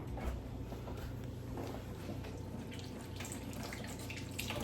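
Cold water runs steadily from a kitchen tap to wet hands before mixing ground beef for Middle Eastern kibbeh, a soft continuous splashing hiss with faint drips, close and fairly quiet, with no talking.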